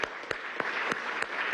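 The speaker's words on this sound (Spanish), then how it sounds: "Vale un aplauso a Eduardo Piñate" Applause rises for Eduardo Piñate at a presidential event on returning to classes, a continuous wash of clapping with a few sharper, evenly spaced claps standing out.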